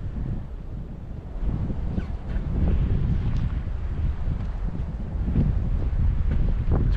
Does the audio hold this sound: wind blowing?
yes